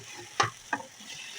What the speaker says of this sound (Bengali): এখন চামচ দিয়ে ভালো করে আমি পেঁয়াজগুলোর সাথে মাছগুলো ভালো করে মিশিয়ে নিই